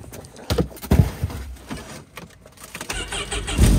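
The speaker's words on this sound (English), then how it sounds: "Cold start, minus 20, can-am. Fired up, no problem." A Can-Am ATV engine cold-starts at minus 20 degrees, with bursts of cranking and firing building to a loud, close engine catch near the end.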